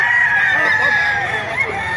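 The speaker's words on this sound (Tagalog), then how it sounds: "Napakaraming manok kayo dito sa Bukawi mga kamaster." Roosters crow at a busy pet market in Bocaue, Bulacan, with several overlapping, drawn-out calls carrying loudly and steadily through the whole stretch over a dense background of clucking fowl.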